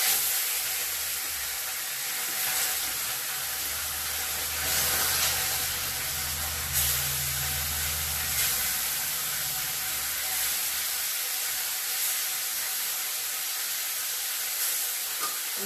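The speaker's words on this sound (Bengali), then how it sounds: "তেল গরম হয়ে গেছে, দিয়ে দিই মাছগুলো।" Fish pieces fry in hot oil in a pan, producing a dense, even, hissing sizzle that stays close and steady from start to finish, with a few faint knocks.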